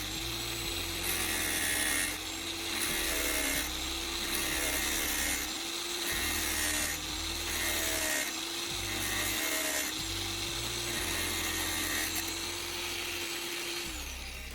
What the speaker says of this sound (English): Using the angle grinder again, I'll cut the silicone tube right on that line.